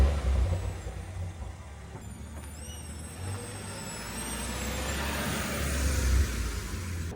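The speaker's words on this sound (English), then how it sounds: "it's time now we go for a little drive" Ineos Grenadier 4x4 driving, a steady low engine and road rumble throughout with a rising drone toward the end, heard from close by with no voices.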